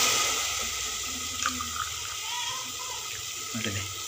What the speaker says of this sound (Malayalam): അപ്പോൾ ശംഖുപുഷ്പത്തിൻ്റെ നീരാട്ടോ നമ്മൾ ഒഴിക്കുന്ന കേട്ടില്ലേ